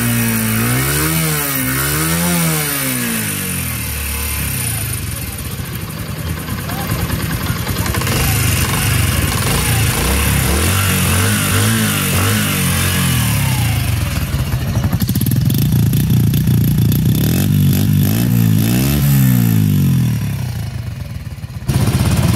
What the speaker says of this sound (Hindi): 235 किलोमीटर चलने के बाद इंजन की आवाज़ सुन सकते हैं आप।